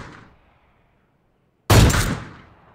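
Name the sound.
gunshots in a shooting video game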